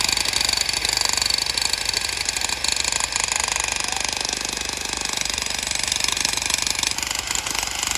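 A concrete-breaking machine works on a poured slab to free a pillar at a construction site: a continuous, loud, rapid hammering rattle with an engine-like drone that runs unbroken throughout.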